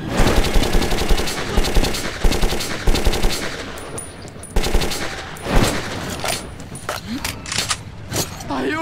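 Machine gun fire in the Metro 2033 video game, rapid loud bursts repeated in several rattling volleys with short pauses between them, mixed with mechanical clanks and shouted voices.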